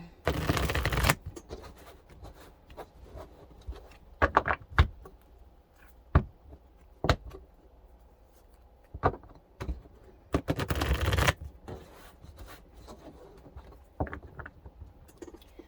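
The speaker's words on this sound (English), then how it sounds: "let me go ahead and shuffle real quick for you" Tarot cards are shuffled in quick riffling bursts and soft taps, a few longer riffles among scattered short snaps, close and fairly quiet, with no talking.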